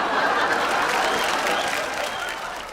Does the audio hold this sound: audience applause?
yes